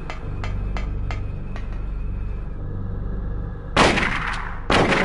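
Pistol shots in the PlayStation game Silent Hill during a fight with Cybil, with light clicks over a humming backdrop followed by two loud, close gunshot bursts in quick succession.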